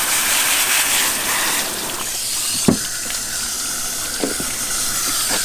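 An ATV air filter is rinsed under running water, a steady loud splashing hiss that continues throughout with a couple of brief knocks in between.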